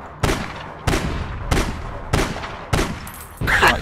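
Rapid bursts of gunfire from the online shooter game APB Reloaded: about six loud, sharp volleys at a steady pace, close and dominant with no talk over them.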